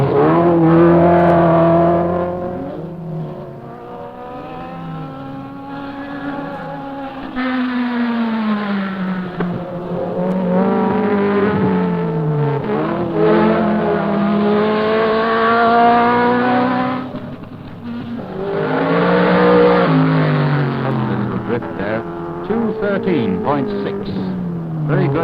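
A race car climbing the Knox Mountain hill climb course in Kelowna, British Columbia, 1972, its engine rising and falling in pitch through repeated gear changes, loud and sustained beneath a commentator talking throughout.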